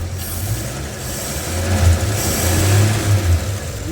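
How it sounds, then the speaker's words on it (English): A 1950 Chevy engine gets a light rev, a low rumbling engine note that swells gently and settles, heard close up in an echoey engine bay. "Let me give it just a little bit of a rev."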